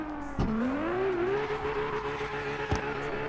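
Nissan ER34 Skyline engine heard from inside the cabin in CarX Drift Racing, a steady droning note that rises and holds, with brief sharp bursts like gear shifts or limiter cuts.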